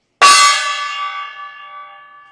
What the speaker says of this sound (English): That is a gong hit, if I've ever seen one.